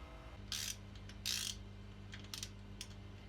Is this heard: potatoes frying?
no